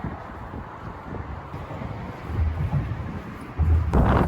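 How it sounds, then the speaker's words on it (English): Strong wind buffets the microphone in a steady low roar, with heavier gusts building toward the end. "And it's extremely windy, so maybe you can't hear me at all."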